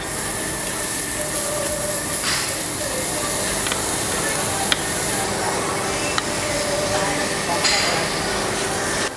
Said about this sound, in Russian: Мясо нам уже накидали. Можно приступать жарить. Давайте начнем с говядины.